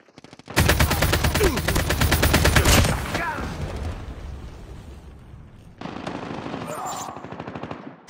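The legendary ASM10 assault rifle fires in a shooter video game: a loud, dense burst of rapid automatic fire lasts about two seconds and fades into a lingering echo, then a second, quieter stretch of shooting follows.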